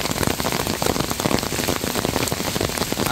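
Heavy rain pours steadily, a dense, loud patter of drops hitting surfaces close by, with no voices.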